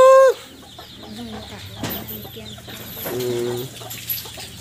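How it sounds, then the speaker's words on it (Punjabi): A rooster lets out a short sharp squawk, then gives soft scattered clucks against a quiet background hum. "ਬੜਾ ਸੋਹਣਾ ਕੁੱਕੜ ਆ ਯਾਰ ਇਹ"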